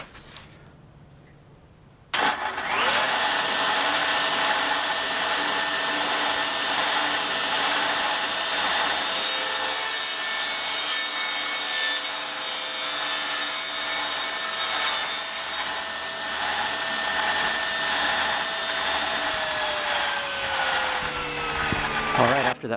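Power saw slicing wood panels for a bench cubby storage cabinet, a loud continuous cutting whine after a quiet start, holding steady for about twenty seconds before winding down.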